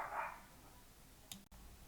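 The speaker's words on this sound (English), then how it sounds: "See, dog started again." A dog barks faintly in the distance: a single short bark at the start, then quiet room sound with a small click near the end.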